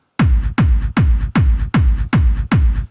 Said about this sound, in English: when we listen to a kick without shortening and without a fade, it sounds like this